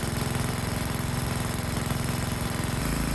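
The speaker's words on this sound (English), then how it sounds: "With the engine running, I'm now going to adjust the idle mixture." An MTD Ten Hundred lawn tractor engine idles close by during idle-mixture adjustment, a steady rhythmic low chug with a slight drop in pitch near the end and no talk.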